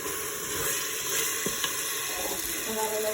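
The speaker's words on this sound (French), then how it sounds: "On va remettre un petit peu d'eau." Water pours into a pot of simmering beef for couscous, a continuous close splashing rush over a faint sizzle, with soft clinks and a brief voice in the background.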